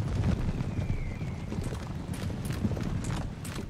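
Cavalry horses walking in the Napoleon: Total War video game, a dense, steady clatter of many hooves under a low battle rumble, continuous and moderately loud throughout.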